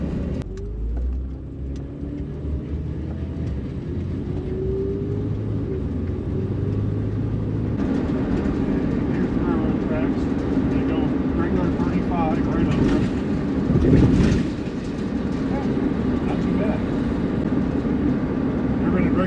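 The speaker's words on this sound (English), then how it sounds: "I'll go across railroad tracks" A van engine hums steadily from inside the cabin, with rattling and a brief louder bump partway through as the wheels cross railroad tracks.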